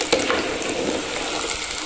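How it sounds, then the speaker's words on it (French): Plantain slices frying in hot oil for a Comorian dish give a dense, continuous sizzle and crackle, close and steady throughout. "il faut attendre que ça soit bien doré avant de le retirer de la friture"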